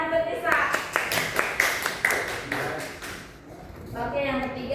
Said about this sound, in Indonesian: Tepuk tangan buat Nisa.